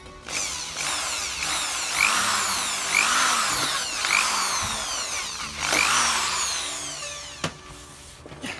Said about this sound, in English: we're going to drill this side of the mast for the 10mm spacer